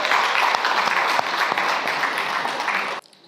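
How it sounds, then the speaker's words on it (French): Dense, sustained applause from an audience at a Paris launch event for the magazine Reines d'Afrique fills the room, fairly loud and steady, then stops abruptly near the end. "On peut les applaudir."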